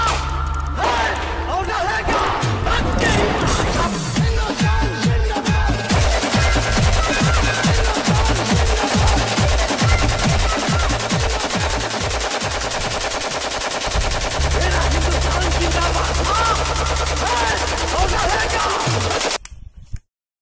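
Rapid gunfire sound effects rattle in long bursts through a comedy skit about soldiers, loud and dense, with people talking over much of it.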